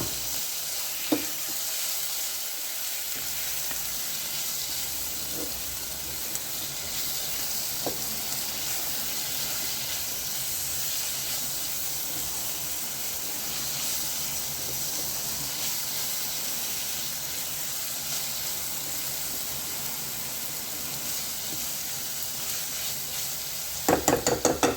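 Chopped tomatoes for a tomato and onion soup fry in a pan with a long, unbroken sizzling hiss, steady in level, with occasional faint taps and a few clinks at the very end.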